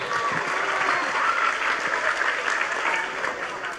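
Listeners at a Javanese Islamic sermon gathering break into sustained, fairly loud applause, a thick wash of many hands clapping at once that carries on for several seconds.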